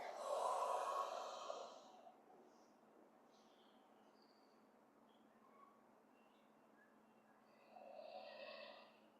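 A person breathes out during a qigong breathing exercise, a soft airy exhale fading away, then a quieter stretch and another breath near the end, close and faint.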